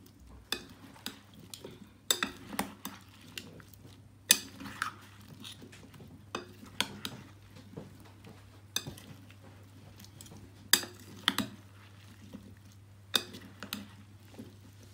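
Fruit chaat is stirred with orange juice in a bowl, a spoon giving a steady run of soft wet swishes punctuated by sharp clinks against the bowl, close and alone over a low steady hum.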